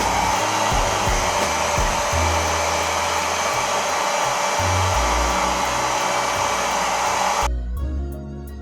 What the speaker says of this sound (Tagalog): So, magamit ko blower kaya para dali na siya mauga.